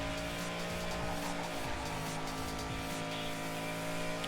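A race car in the Ridge Racer Unbounded game roars along continuously, a dense engine drone with faint tire squeal layered beneath, steady and loud without pauses or voices.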